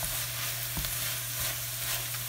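Pad thai noodles with scrambled egg stir-fry in a hot pan, a steady sizzle with scraping stirs and occasional utensil taps, close, with no voices.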